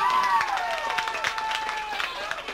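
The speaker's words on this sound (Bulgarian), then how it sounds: "Аплодисменти, младаци!" Applause from a school audience, steady clapping with some cheering, while a voice speaks over it.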